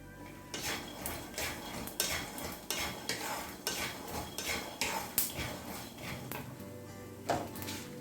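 Peanuts and spices stirred while dry-frying in a pan over a low flame, giving a steady run of close, dry scraping and rattling with sharp clinks of the utensil against the metal.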